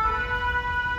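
A fire brigade siren sounds on a street in Saint-Astier, Dordogne, as a loud, steady, wailing electronic tone that is close and continuous through the whole short clip.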